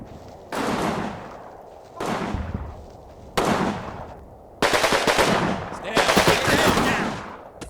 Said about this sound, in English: They really need to keep their heads down because they turned around the heavy MG.